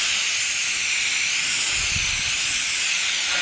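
Hose spray rinsing an air-conditioning unit, a steady loud hiss of water jetting against the metal fins, continuous and close throughout.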